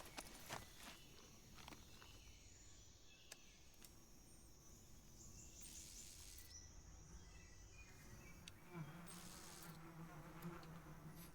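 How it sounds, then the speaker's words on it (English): Bees from the Metal Gear Solid 3 video game drone in a faint, continuous buzz around a beehive in a jungle, with occasional footsteps and soft rustling mixed in. "Bees!"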